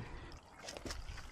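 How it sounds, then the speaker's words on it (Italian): Rainwater trickles out of a cistern near a chicken coop, a steady close liquid dribble with small splashy drips, heard alone without talk. "L'acqua, accidenti, starà anche uscendo."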